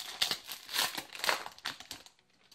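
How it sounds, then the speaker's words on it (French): Yu-Gi-Oh! booster pack wrapper from the L'Esprit des Guerriers set being torn open, a close, bursty crinkling of foil plastic in several quick crackling pulses that fade out near the end. "il nous reste 2 boosters. Donc on va s'ouvrir ça tout de suite."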